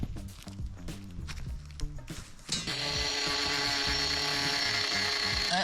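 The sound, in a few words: angle grinder cutting rebar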